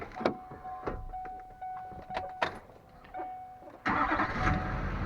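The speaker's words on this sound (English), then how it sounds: "So I'm going to fire the truck back up and try this again." A truck engine cranks and catches, then settles into a steady idle, close and fairly loud, with no talk over it.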